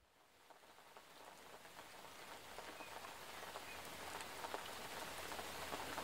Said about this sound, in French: Un matin où la pluie crépitait